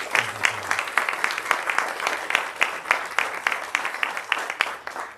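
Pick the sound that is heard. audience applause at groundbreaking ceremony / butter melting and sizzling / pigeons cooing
audience applause at groundbreaking ceremony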